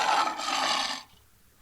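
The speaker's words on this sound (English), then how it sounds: "That's the sound a lion makes." A lion lets out a single rough, raspy roar lasting about a second, loud and close, then fades into near quiet.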